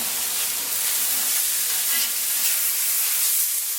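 Hamburger patties sizzle on a Blackstone flat top griddle in a dense, continuous, close hiss that holds steady throughout, with no voices.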